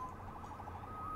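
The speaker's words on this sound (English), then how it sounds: "Saved by the siren." A police siren from the Marvel's Spider-Man PS4 video game wails steadily and sweeps slowly upward, sounding continuous at moderate level behind game ambience, with no talk over it.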